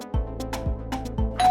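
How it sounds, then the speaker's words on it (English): A doorbell chimes close by in a repeating ding-dong pattern, three struck tones each ringing out and decaying, with a brighter ring at the end. "That sounds like your doorbell."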